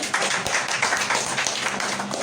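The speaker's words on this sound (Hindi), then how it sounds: "क्लैपिंग होनी चाहिए इस बच्चे के लिए। दिलों में जाओ तालियां।" Dense, continuous audience clapping for a student fills the room, many hands clapping at once in an even, sustained burst with no talking.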